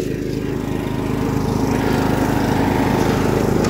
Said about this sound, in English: we're mowing your lawn right now, so it might get a little bit loud